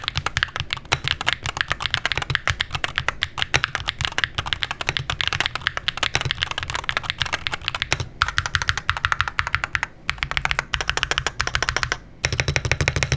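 Steady, rapid typing on an ATK RS7 Pro 75% mechanical keyboard, crisp clacky keystrokes in continuous bursts with brief pauses, close up and with no talking.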